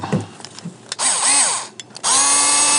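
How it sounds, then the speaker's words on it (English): A cordless power drill backs screws out of a metal backup camera bracket on an RV in three close, loud bursts, the motor pitch rising and falling as it spins, with short pauses between runs. "I use power tools."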